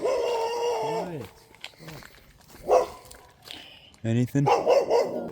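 Dogs bark in several short, loud bursts near the listener, mixed with a person's speech between barks, at an outdoor spot.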